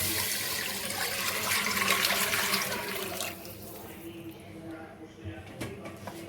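Water poured from a glass into a pan of browned cumin seeds for rice: a steady rushing splash for about three seconds, then a quieter bubbling hiss as the pour ends, close and fairly loud.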